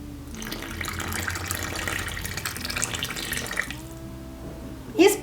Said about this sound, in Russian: Вливаем сюда растительное масло и теплую воду.